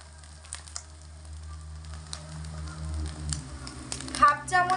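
Fish roe frying in hot oil in a home kitchen pan as cumin powder and red chilli powder are added, giving a steady close sizzle with brief clinks and stirring scrapes that grow busier toward the end.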